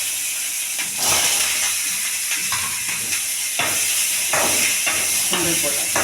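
Curry leaves dropped into hot oil, bursting into loud, close sputtering and hissing that swells in several surges.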